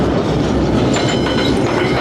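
A freight train rolls through Argentina, its loud, close, continuous rumble carrying faint clicking and metallic squeals from the wheels, with no voices.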